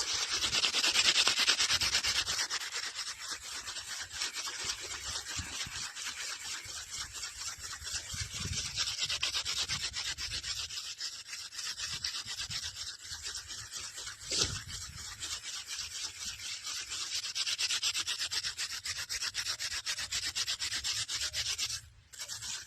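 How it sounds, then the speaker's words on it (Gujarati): A masala spice mixture is rubbed and mixed by hand, giving a continuous dry, gritty rubbing and scraping close up. The sound runs steadily for over twenty seconds with slight swells and a few brief knocks. "મસાલો મહાડવાનું ચાલુ થઈ ગયું છે."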